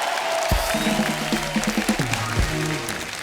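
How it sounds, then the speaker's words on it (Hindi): A comedy talk show studio audience breaks into a dense wash of clapping and cheering, steady throughout with music-like tones running underneath. "जोरदार तालियां हो जाए।"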